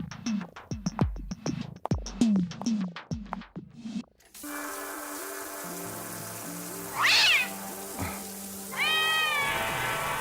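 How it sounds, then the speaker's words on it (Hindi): A cat meows several times in close, sharp bursts, followed by a few longer drawn-out mews against a faint background hum. "वो तो बिल्ली थी।"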